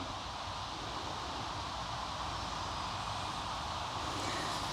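A Wallefpv Lightening 3 FPV drone on a 720 mAh battery flies with a steady, airy whir and rushing wind noise, faint and constant throughout, with no voices.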